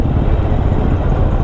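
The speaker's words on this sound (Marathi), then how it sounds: "आता माझ्या मते ही टोल नाक्याची ट्रॅफिक आहे" Vehicles in a traffic jam at a highway toll plaza produce a steady, close, low engine rumble and road noise that holds at an even loudness throughout.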